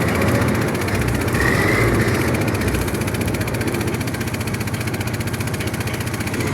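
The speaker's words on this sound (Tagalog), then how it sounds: "Mag-andar na ng boat engine namin, dalawa." Two boat engines run together as a vessel heads out from a shipyard, making a steady, loud low drone with a rhythmic throb that continues without pause and no talking.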